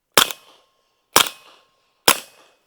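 Three suppressed .45 gunshots through a Hush-Point silencer with subsonic ammunition, sharp loud cracks about one second apart, each with a short decaying tail and silence between.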